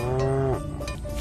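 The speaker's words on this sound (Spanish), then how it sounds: "Hay una vaca." A farm cow gives a single loud, close moo that holds briefly and then breaks off, followed by quieter barnyard ambience with no speech.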